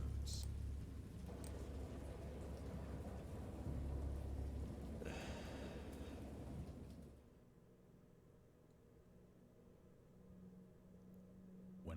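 A thunder and rain sound effect gives a low, heavy rumble with steady rain hiss, swelling at about five seconds and then fading to a quieter patter with faint distant rumbling.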